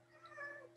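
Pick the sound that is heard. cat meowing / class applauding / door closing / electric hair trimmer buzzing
cat meowing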